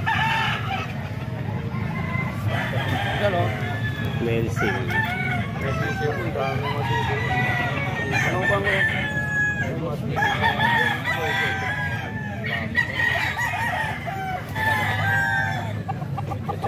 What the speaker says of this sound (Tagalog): Marami naman manok.